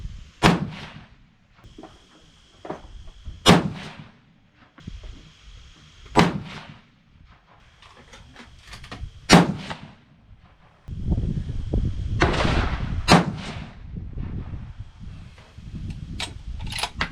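A 6.5 PRC rifle loaded with Retumbo powder and Hornady 153gr A-Tip bullets fires five sharp, loud shots spaced a few seconds apart, with handling noises and clatter between them and a stretch of rustling near the end.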